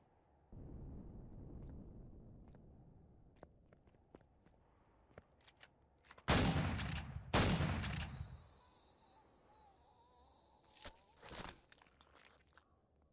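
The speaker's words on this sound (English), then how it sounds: "Right, we're just gonna have to use the shotgun." Two heavy shotgun blasts boom close together in Empyrion Galactic Survival, standing out sharply from a quiet ambience of faint ticks, buzzing and scattered small clicks.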